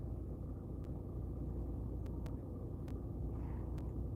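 A car is driving, and from inside its engine gives off a steady low rumble with road noise, plus a few faint ticks and clicks and no talking.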